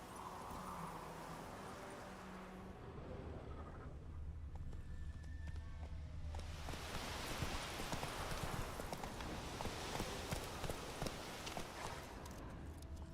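Roach, the horse in The Witcher 3, clip-clops along with hooves striking in a steady rhythm, faint at first and then louder and denser after about six seconds, with no voices present.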